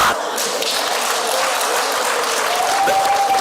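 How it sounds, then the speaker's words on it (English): Steady, dense applause from a crowd, many hands clapping continuously, loud and close, with a faint whistle near the end. "Clap hands for Afasa"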